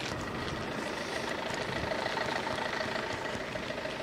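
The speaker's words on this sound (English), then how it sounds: "You can definitely hear when you have like a diesel engine." Diesel engine of a boat in Denmark running steadily, a continuous low rumble with a faint knocking texture, fairly close and alone without talk.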